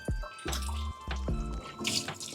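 Dishes being washed under a running kitchen tap, a steady stream of water splashing with clinks and knocks of dishware, close by with no talking.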